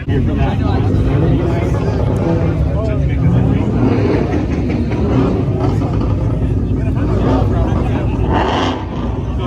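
A loud car engine roars continuously nearby, a dense low rumble filling the whole stretch, with muffled crowd chatter underneath.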